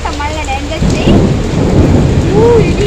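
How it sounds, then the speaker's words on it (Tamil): Thunder rumbles loudly through steady rain on a surface, a deep rolling swell that builds and then sustains, with faint chirping birds early on and no speech. "இடிக்குது பார்த்தீங்களா."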